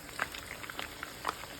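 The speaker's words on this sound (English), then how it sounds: "This is it frying my buffalo fish" Buffalo fish frying in oil, a steady soft bubbling and sizzling with scattered small pops, close and fairly quiet.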